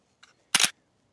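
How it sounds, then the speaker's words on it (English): A Fuji GFX100Sii camera shutter fires once while the camera is shaken, giving a short loud mechanical double clack after a faint softer click. "While pressing the shutter in, shaking the camera around."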